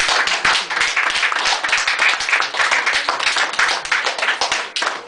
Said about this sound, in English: I gotta wonder if the poem got applause